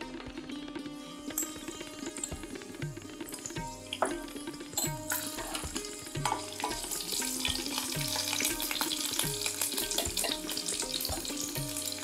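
Long-cut green chillies drop into hot oil in a pan and fry with a steady sizzle, stirred now and then, with clinks of utensils and the rush of running water in the background.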